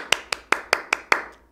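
One person claps their hands six times in a steady, evenly spaced rhythm, close and crisp with no talking, while demonstrating how to clap during a classroom magic lesson.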